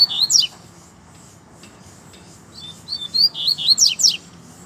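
A double-collared seedeater (coleiro) sings outdoors in brush, with a short burst of bright chirps at the start and a longer run of rapid twittering phrases near the end, fairly close and clear over quiet background.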